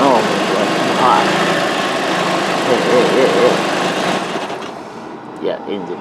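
A car engine with an intermittent stalling fault runs loudly at a steady idle for a few seconds, then cuts out and dies, leaving a short quieter tail with a voice speaking under it.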